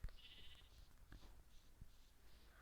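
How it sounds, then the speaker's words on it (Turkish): Sheep bleating in a survival video game, a few short faint bleats spread across the moment with soft background noise. "Koyun sesi geliyor."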